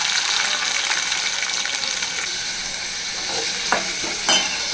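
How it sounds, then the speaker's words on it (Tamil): Sliced onions fry in a pan with garlic and curry leaves, giving a loud, dense, steady hiss of sizzling oil with a few stirring clatters near the end, up close and free of speech. "இப்போ பார்த்தீங்கன்னா ஆனியன் ஃப்ரை ஆகிடுச்சு"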